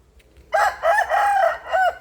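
A young Burmese game rooster gives one loud, close crow that rises, holds and trails off in a final note, standing alone against a quiet background.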